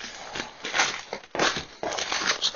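A plastic postal mailing bag holding a boxed Bluetti D050S DC charging enhancer is handled and torn open, giving close, crinkly rustling and crackling bursts with brief pauses.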